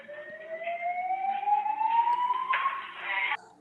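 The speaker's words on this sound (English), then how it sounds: "Wait, now the fire alarm goes off" A fire alarm goes off in the hotel room tied to the Las Vegas shooting, a loud steady electronic tone sweeping slowly upward for about three seconds before cutting off, over a faint murmur of background noise.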